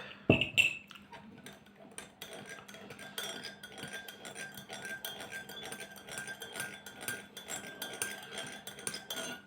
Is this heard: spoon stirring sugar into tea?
yes